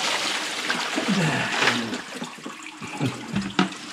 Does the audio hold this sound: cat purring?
no